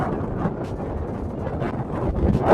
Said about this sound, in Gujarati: જો ને મોજા મારે મોજા મારે પવન ની